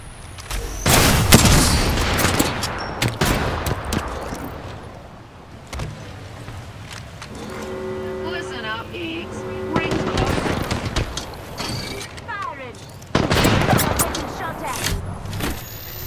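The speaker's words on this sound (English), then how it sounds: "I am taking fire" Gunfire in the Apex Legends video game, bursts of rapid automatic shots and booms separated by quieter stretches, with game voice lines and electronic tones in between.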